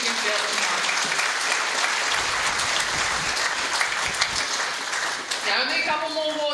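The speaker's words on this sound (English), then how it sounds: "Let's give her another round of applause, because I'm sure she can feel it tonight." At a sports awards ceremony, a crowd gives a long, full round of applause. The clapping is dense and continuous, with some crowd voices mixed in before it begins to thin near the end.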